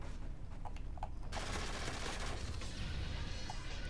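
Gunfire in an online Modern Warfare 3 match, a dense, steady roar of rapid shots that grows louder and fuller after the first second and continues throughout.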